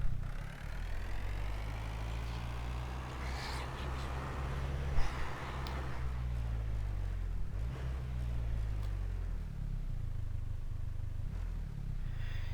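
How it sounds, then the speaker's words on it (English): A car engine in the video game Scum puttering along at low speed, a steady low rumble that wavers up and down in pitch throughout, with a few faint clanks above it. "If you're kind of just puttering along in this car, these guys hardly even hear you."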